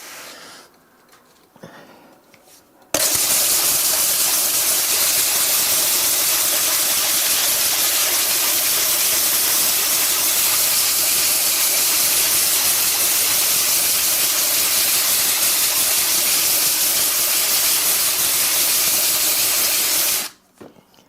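A cheap grinding disc grinds pottery with water in a loud, steady rushing hiss that starts abruptly, holds for about seventeen seconds, then cuts off.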